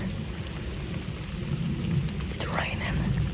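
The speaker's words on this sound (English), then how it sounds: "it's raining." Steady rain falls during a thunderstorm in the woods during deer gun season, a dense continuous hiss with low rumbling underneath and a brief brighter sweep near the end.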